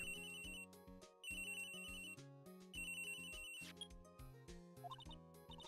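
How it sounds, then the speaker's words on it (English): A telephone rings in the Ace Attorney video game, a repeated electronic ringtone in several bursts with short gaps, clear and alone. "we have like a legit phone in the background, but she's using her cell phone to answer?"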